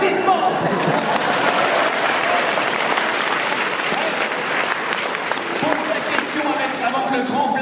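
Lively audience applause fills a conference hall at the Polymanga 2015 convention, dense and sustained for several seconds, with voices and shouts mixed into the clapping.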